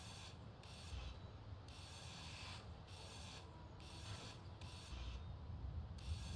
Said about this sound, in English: I'm going to grind that down.